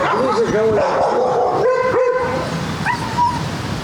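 Shepherd service dogs at a kennel in the Nikopol area bark and yip in short bursts with some whimpering, fairly close, over a steady outdoor background.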